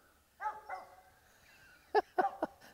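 Hunting dog barking while treeing a squirrel during an upstate squirrel hunt: a few separate barks and yips, a pair early and a tight cluster of three near the end, fairly close, with no talk.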